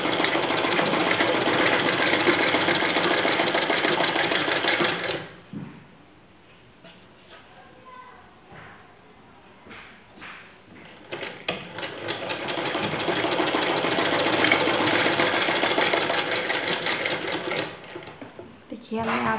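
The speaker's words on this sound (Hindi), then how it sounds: "इसी तरह से हमने दूसरी तरफ भी इसकी सिलाई लगा लेनी है।" A sewing machine stitches fabric for baby bloomers, its rapid mechanical whirring loud and steady, pausing for several seconds midway before running again at full speed.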